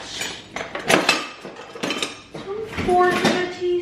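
New measuring spoons clink and rattle against one another while being sorted for cream of tartar, giving several bright metallic clatters close up at an uneven pace.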